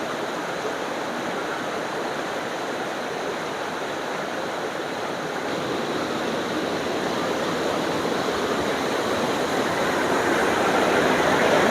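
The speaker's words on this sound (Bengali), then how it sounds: "আর এখান থেকে কিন্তু ঝর্ণার আওয়াজটা পাওয়া যাচ্ছে" A waterfall roars steadily from below a long flight of about 400 stairs in Purulia, a loud, unbroken rushing wash that grows slightly stronger as the clip goes on, with no talking.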